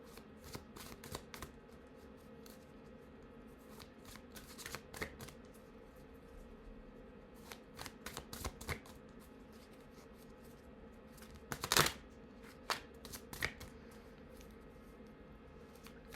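Tarot card deck shuffled by hand in a quiet room, soft riffling and flicking in irregular clusters, with a sharper flurry of card snaps near the end.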